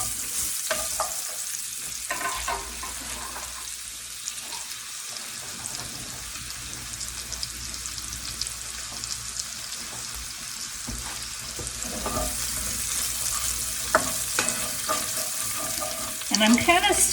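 Mushrooms fry in a hot pan over medium-low heat, a steady close sizzle running throughout with occasional stirring and scraping clatter, and no talking.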